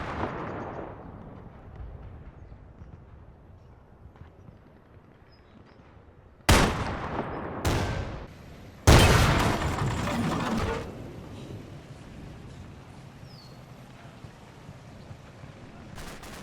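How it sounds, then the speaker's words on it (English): Gunfire and anti-tank gun shots in the Combat Mission Fortress Italy war game, with three sharp, loud blasts in quick succession midway, the last trailing into a long rumbling decay over a low ambient bed. "It then comes under fire, likely from an AT gun positioned at the rear end of the hotel"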